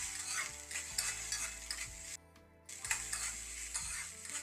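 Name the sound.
mixture being stirred in a pan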